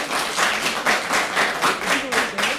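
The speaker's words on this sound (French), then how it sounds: "Est-ce qu'on peut acclamer le Seigneur très fort?" A church congregation claps and cheers for the Lord at a service with a delegation from Haiti, with several rhythmic surges of applause close by and voices mixed into the crowd noise.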